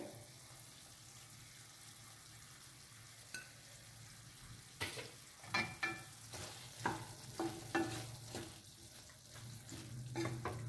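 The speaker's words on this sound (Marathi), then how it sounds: "टोमॅटो टाकून पुन्हा एकदा हलवून घेऊया" Bottle gourd sabji with tomato being stirred in a pan: a low steady sizzle, then from midway a run of scraping, clattering spoon strokes in an uneven rhythm, close and moderately loud.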